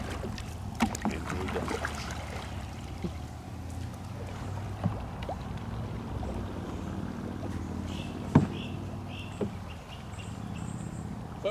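Soft, repeated kayak paddle strokes dip and splash in calm water, steady and close, with a faint outdoor ambience and occasional light knocks.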